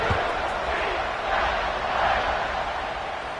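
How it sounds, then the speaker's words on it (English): Football stadium crowd buzzing after a scoring drive, a steady dense roar of many voices filling the space, loud and continuous with slight swells, no single voice standing out. "this crowd is buzzing after that last score"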